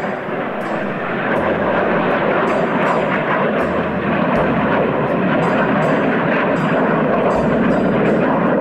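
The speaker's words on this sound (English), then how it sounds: "Oh, some planes going over." Propeller aircraft passing overhead during a countryside ramble near the Moorcock Inn, a loud steady engine drone that fills the whole clip with a continuous broadband roar, swelling slightly partway through.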